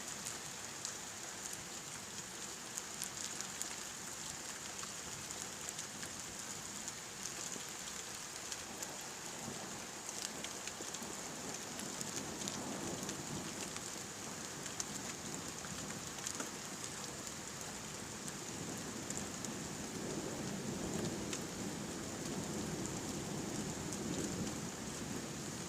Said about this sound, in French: les orages qui se développent sont à chaque fois très électriques